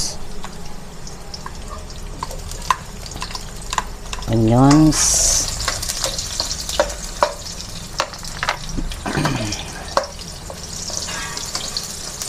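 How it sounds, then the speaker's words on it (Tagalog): Onions sauté in a pan for chicken sinigang, a steady low sizzle broken by frequent clinks and scrapes of a utensil, with a short squeaky scrape midway. "Maggisa tayo gigisa po natin muna sa tawag nito, onions."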